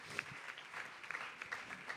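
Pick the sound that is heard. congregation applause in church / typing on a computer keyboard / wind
congregation applause in church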